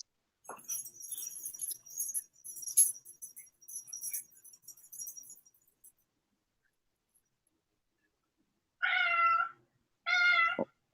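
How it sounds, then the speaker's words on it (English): Pet cat meowing twice near the end, two clear, fairly loud calls about a second apart after a stretch of quiet, preceded by faint high-pitched background chatter. "Oh, I hear your cat."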